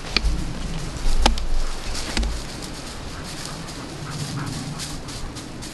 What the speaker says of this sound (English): There are two wild dogs that always happen to come over here.